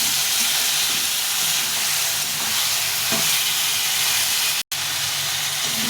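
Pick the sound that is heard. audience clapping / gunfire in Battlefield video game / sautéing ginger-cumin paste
sautéing ginger-cumin paste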